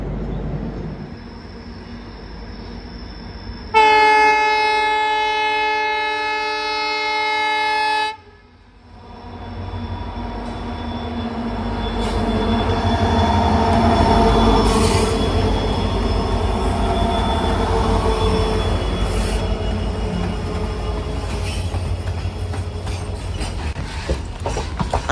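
The Humsafar Express rolls along in Assam with a steady rumble of wheels on rails, broken early on by a loud, sustained multi-tone train horn lasting several seconds, then a long building clatter as the train gathers pace.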